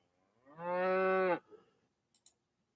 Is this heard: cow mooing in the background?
yes